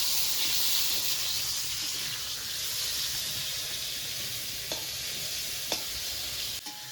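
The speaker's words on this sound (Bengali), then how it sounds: "পটলগুলো ভালো করে ভেজে নিলে কিন্তু খেতে ভালো লাগে" Pointed gourd (potol) frying in a pan gives a steady, close sizzle with hiss for the whole stretch, broken by a few faint clicks of stirring near the end.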